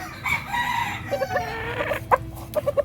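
An eight-month-old graded Peruvian gamefowl stag crows at fairly close range, followed by several short clucking calls, with no talking over it.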